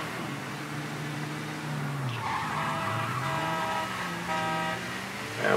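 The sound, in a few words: car horn honking in the video game Mafia 3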